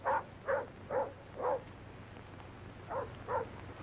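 A neighbors' dog barks in a quick run of four yaps, pauses, then gives two more, somewhat distant and muffled over a low steady hum.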